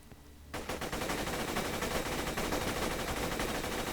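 Vladof assault rifle in Borderlands 2 opening up after a brief quiet moment, a rapid, continuous, very fast stream of loud gunshots sustained to the end.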